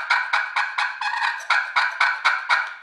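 A push-button plunger turkey call pumped out about ten quick raspy hen yelps in a steady rhythm, close and clear with nothing else around it.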